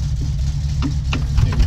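A car engine turning over and running in My Summer Car, a steady low rumble with a few faint clicks and knocks on top, no talk.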